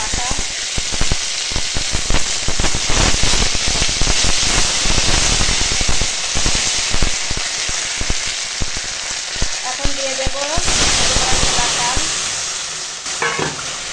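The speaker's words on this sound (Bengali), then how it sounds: "ফোড়নটা ভাজা হয়ে গেছে এখন দিয়ে দেবো আদা" Bay leaf, whole cumin and dried red chillies tempering in hot oil for chana dal, with ginger added: a loud, steady, close sizzle and crackle with scattered clinks of stirring that continues throughout.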